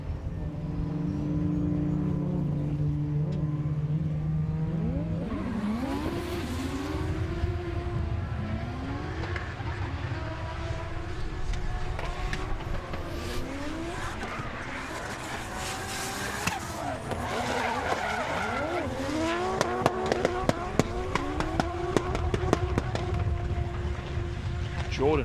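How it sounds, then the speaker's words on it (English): Nissan drift car engines rev and whine continuously during drift battles, rising and falling in pitch with a roaring, slightly distant sound, and a voice talks over them at times. "listen to some Nissan engine sounds"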